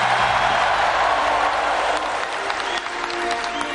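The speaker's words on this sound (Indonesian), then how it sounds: "Tepuk tangannya kurang semangat." A crowd at an Indonesian political gathering gives loud, sustained applause, dense clapping that fades slightly toward the end, with a few voices mixed in.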